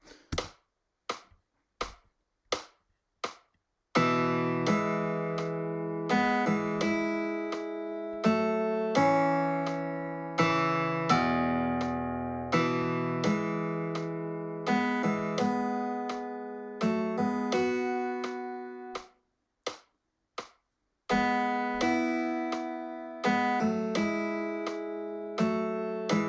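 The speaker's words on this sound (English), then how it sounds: "if you just listen to the melody here, I just added in the harmony guitar part" Sharp rhythmic clicks keep time, then sustained guitar notes play a melody with a second guitar line harmonizing above it, pausing briefly before resuming.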